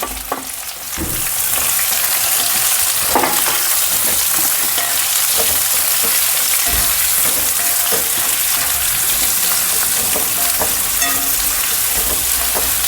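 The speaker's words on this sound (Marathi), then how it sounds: "कांदा थोडा लालसर येतपर्यंत फ्राय करून घ्यायचा आहे आपल्याला" Onions and garlic frying in a pan, a loud, continuous bright sizzle that holds steady throughout with occasional stirring scrapes, no talking.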